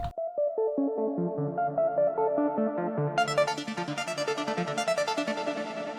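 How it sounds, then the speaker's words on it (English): A synth arpeggio plays steady, rapidly repeating notes in Ableton for a hardstyle track. Partway through it turns brighter and denser as the automated rate quickens, with no voices over it. "I automated the rate of the arpeggio."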